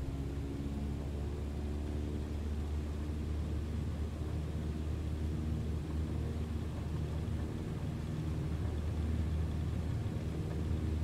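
An airliner takes off in Microsoft Flight Simulator 2020, with a steady, dense engine roar and low rumble that holds level for about eleven seconds. No one speaks.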